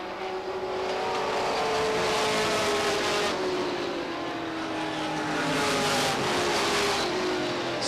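Stock race cars roaring around the Beech Ridge Motor Speedway oval in 1993, a steady loud engine drone with rising and falling pitch as cars pass, heard from a distance without talk.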